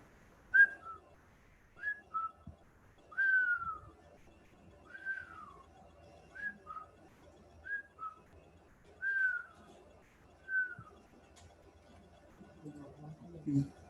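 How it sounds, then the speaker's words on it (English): A person whistles a slow series of short sliding notes, about ten phrases spaced evenly, soft and clear in a quiet room. "I finally learned how to whistle like you"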